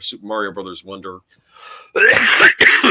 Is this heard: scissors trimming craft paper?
no